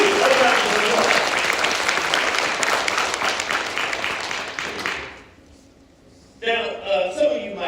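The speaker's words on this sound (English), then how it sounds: "Let's give them a round of applause." A live evening audience breaks into a loud, dense round of clapping that holds for about five seconds, then fades quickly before other sounds return.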